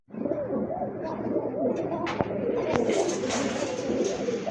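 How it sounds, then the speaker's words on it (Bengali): A big male blue pigeon with feathered feet coos in a close, steady rolling series, with a couple of sharp clicks and a faint voice in the background. "মাশাআল্লাহ ব্লু শার্টিনের একটা বিগ সাইজের নর কবুতর"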